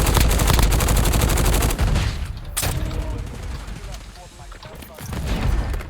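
Rapid bursts of automatic gunfire in the video game Warzone, loud and close, firing in quick volleys with brief pauses and softer shots trailing off.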